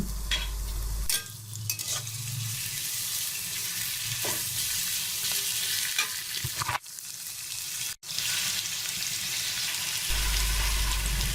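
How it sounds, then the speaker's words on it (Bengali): Chopped onions fry in hot oil with a steady, loud sizzle, interrupted by stirring scrapes and a couple of brief dips, no voices present. "তেলটা গরম হয়ে গেলে পেঁয়াজ কুচি দিয়ে দিলাম পেঁয়াজ কুচি আমি আগেই কেটে রেখেছিলাম এবার এগুলো এখানে দিয়ে হালকা করে ভেজে নিচ্ছি"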